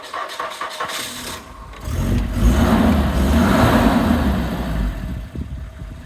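A Volvo 240 wagon's 2.3 engine with automatic transmission cranks and catches, revs briefly, then settles into a steady, smooth idle close by.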